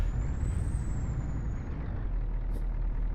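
Air brakes on a heavy truck in Euro Truck Simulator 2, a steady loud pneumatic hiss and rumble held throughout under the engine drone, with a thin whistling tone fading early on.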